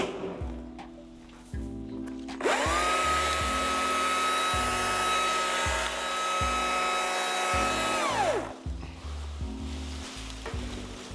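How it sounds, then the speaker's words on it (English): A chainsaw cutting a ficus tree revs up and runs at a loud, steady whine for several seconds, then winds down, with knocking and clunking before and after. "I'm gonna need the chainsaw."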